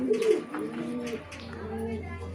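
Racing pigeon cooing in a breeding loft, a soft low murmuring coo running through most of the stretch with people talking over it.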